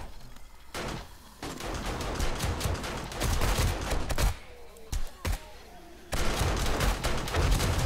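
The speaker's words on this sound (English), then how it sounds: "Okay, there's turrets going off." Automated turrets fire in rapid repeated bursts during a zombie horde night in 7 Days to Die, with loud clattering volleys, brief pauses and dense game noise layered throughout.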